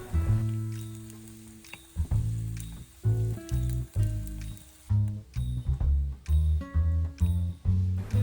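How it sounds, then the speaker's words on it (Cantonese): Preserved radish stir-fries in a wok with steady sizzling and repeated scraping, tossing strokes of the spatula, close and fairly loud with no talk. "炒到啲菜脯已經變淺顏色"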